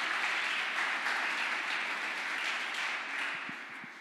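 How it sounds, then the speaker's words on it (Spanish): A church congregation claps together in praise, a dense, even wash of applause that holds steady, then begins to thin and fade toward the end, with a few low thumps near the close. "Dale un aplauso al Señor y celebra su victoria."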